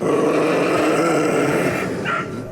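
Several dogs growling protectively, a continuous low, rough snarl up close that eases off slightly near the end.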